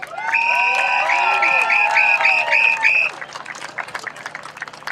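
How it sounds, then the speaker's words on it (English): A rally crowd at a We Are Lawrence event greets the next speaker with loud cheering, high whoops and whistles over steady applause, and the cheers die down after a few seconds while scattered clapping continues. "Please give her a round of applause"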